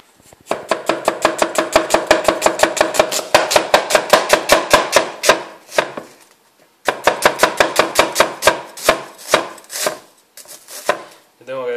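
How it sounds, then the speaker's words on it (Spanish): A knife chops an onion on a cutting board in rapid, even strokes, loud and close, with a short pause midway before a second burst of quick cuts and a few slower final chops. "Ya de paso vamos a partir también la cebolla."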